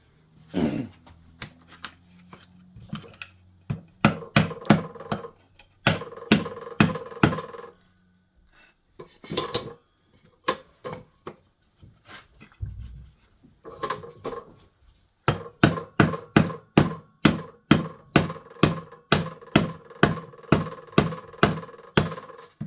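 A series of sharp, close wooden taps, irregular at first, then a steady rapid run of hammer strikes on a tight wooden dovetail joint cut with a Harbor Freight dovetail jig, with short pauses between.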